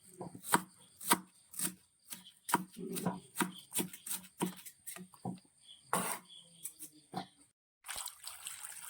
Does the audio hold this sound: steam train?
no